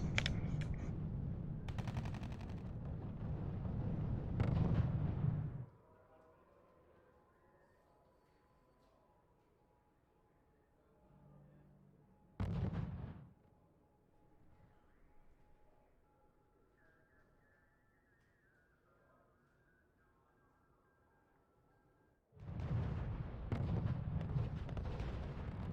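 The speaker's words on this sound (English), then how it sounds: "The mortars are being really annoying by killing my AT guns." Mortar and artillery fire in the real-time strategy game RUSE, in a France versus Germany match on the Nuclear Winter map. Dense, loud barrages of booming blasts come in bursts, with a single sharp volley between long quieter stretches of low ambience.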